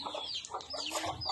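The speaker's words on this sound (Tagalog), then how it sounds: "Manok." Chicken clucking in short repeated bursts, fairly close and moderately loud, with a few scattered calls over about a second and a half.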